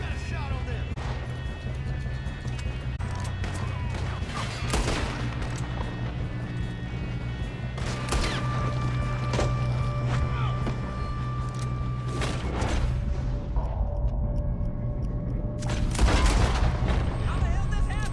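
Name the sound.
gunfire during train robbery, video game Red Dead Redemption 2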